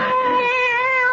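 A cat meows in a 1974 old-time radio mystery drama, one drawn-out, close and loud meow with a clear wavering tone, heard alone without speech.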